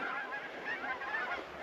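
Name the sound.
geese honking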